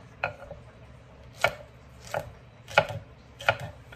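Vegetables being chopped on a board during home cooking of a Bangladeshi meal, four or five sharp, separate knife strikes spaced irregularly, close and clear over a low, steady background hum.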